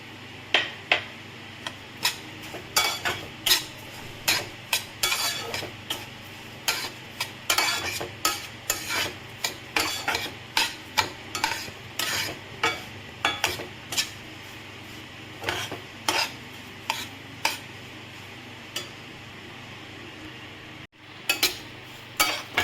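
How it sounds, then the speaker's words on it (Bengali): Fried semolina with sugar for mango barfi, stirred in a pan over a very low flame, giving a long run of rhythmic spatula scrapes and taps over a faint sizzle, close up and alone. "সুজিটা আমার কিছুক্ষণ ভেজে নিয়েছি আমি এইবারে চিনিটা দেবো"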